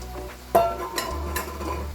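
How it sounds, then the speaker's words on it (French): Green, yellow and red bell peppers go into a hot pan with salmon and vegetables. A sharp clatter as they drop in is followed by steady sizzling and a few stirring scrapes. "À ce stade de la cuisson, nous pouvons ajouter nos poivrons."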